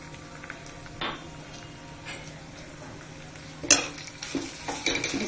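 Chopped onions frying in oil crackle softly as crushed ginger garlic is stirred in, with scattered spoon scrapes and clinks against the pan, louder near the end.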